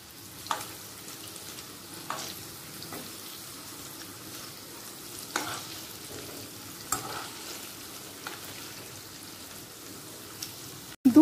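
Paneer pieces fry quietly in a pan, turned to brown the other side: a faint, even sizzle broken by occasional light taps of a utensil, ending in a sudden loud clatter.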